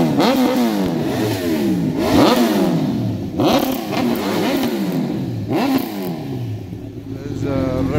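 Repsol Honda and Aprilia sport motorcycles revving hard at a group ride gathering, engines rising and falling in repeated loud throttle blips close by, with people talking over the roar.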